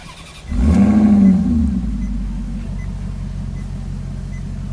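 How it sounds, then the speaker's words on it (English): A 4.7-liter engine in a 2018 Maserati GranTurismo MC starts up and revs once with a deep roar, then settles into a steady low idle nearby. "Give you a couple revs."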